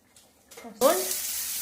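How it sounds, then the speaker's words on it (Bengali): Food sizzles as it fries in a pan in a home kitchen. After a quiet start, a sudden burst of sizzling turns into a steady, close hiss that lasts under a second. "এই যে ভাজাটা ভাজছি"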